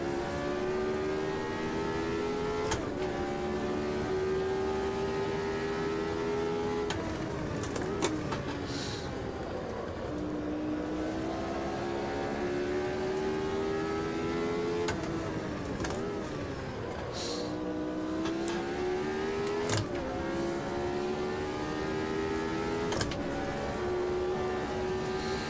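Racing car engine in the video game Automobilista 2, a continuous buzzing whine climbing in pitch through each gear, cut by sharp upshift breaks and occasional dips under braking, steady and loud throughout.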